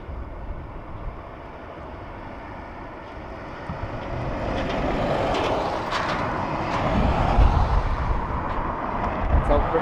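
A British Airways airliner arriving from London at Dublin Airport, its engine roar swelling gradually from moderate to loud and steady, with a voice talking briefly over the noise.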